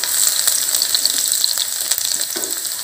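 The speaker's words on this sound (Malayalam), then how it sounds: "വെളുത്തുള്ളി ചിക്കൊണ്ടിരിക്കും." Chopped garlic frying in hot oil in a pan, a steady bright sizzle with the scrape and clatter of stirring running through it, close and loud with no talking.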